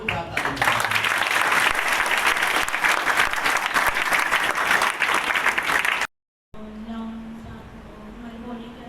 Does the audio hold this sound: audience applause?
yes